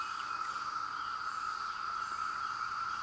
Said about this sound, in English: The cicadas are already busy this morning.